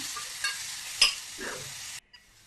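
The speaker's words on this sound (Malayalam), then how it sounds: "അത് കഴിഞ്ഞിട്ട് ഇളക്കി കൊടുക്കുക" Grated beetroot being stirred in a pan over medium heat, a soft continuous sizzle with a couple of scraping knocks from the spoon, then it cuts to near silence.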